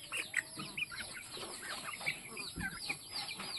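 Chickens cluck repeatedly around a backyard where the hens are close to laying eggs, the short calls overlapping in an uneven rhythm at close to middle distance, with faint scattered voices and farmyard noise underneath.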